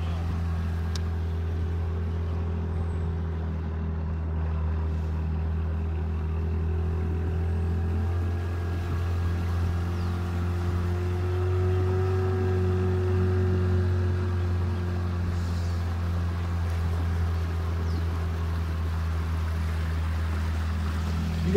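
A volunteer fire brigade motorboat engine drones steadily over shallow flood water at a moderate distance, a low, even hum that continues throughout with faint water noise and no voices.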